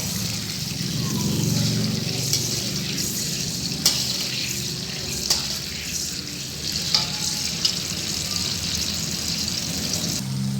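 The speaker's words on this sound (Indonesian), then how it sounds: "Kita aduk dan biarkan sampai sedikit mengental," A pan of sauce for orek tempe sizzles and bubbles steadily as a utensil stirs it while it thickens, with soft scraping clicks and watery gurgles, close and fairly quiet, no voices.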